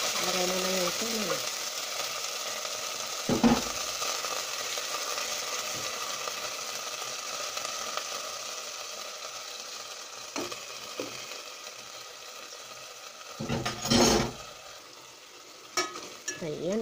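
Canned tuna hisses steadily in a hot pan as it is stirred for a Filipino laing dish of dried taro leaves, with continuous sizzling broken by a few louder scraping stirs.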